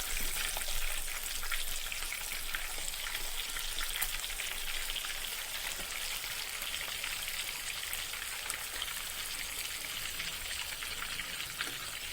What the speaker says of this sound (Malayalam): ഇനി മറുവശം കൂടി ഒന്ന് ഫ്രൈ ആക്കി എടുക്കാം.